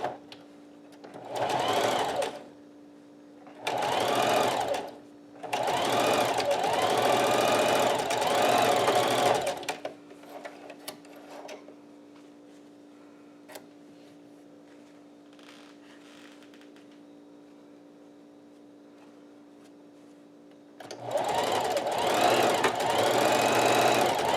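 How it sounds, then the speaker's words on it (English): A sewing machine stitches a seam on a fabric face mask in three quick bursts and one longer run, each a loud, rapid mechanical whir separated by quiet pauses. "then stitch along the seam"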